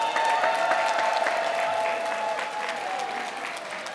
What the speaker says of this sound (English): give your neighbor a round of applause